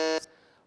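A single loud electronic quiz buzzer at a quiz competition in Kalaburagi sounds for a moment, then cuts off sharply, leaving a short fading ring.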